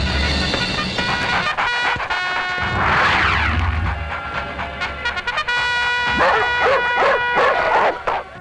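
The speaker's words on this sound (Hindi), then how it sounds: "कुत्ते क्यों भौंक रहे हैं?" Several dogs bark repeatedly in a Hindi-dubbed South Indian movie scene, loud, sharp yaps and yelps in quick irregular bursts over dense dramatic background sound.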